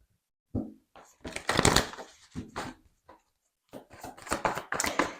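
A deck of oracle cards is shuffled by hand, close and fairly soft, in several uneven bursts of riffling and flicking separated by brief pauses.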